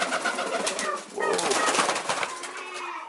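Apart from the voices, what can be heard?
owl and frillback pigeons cooing in the loft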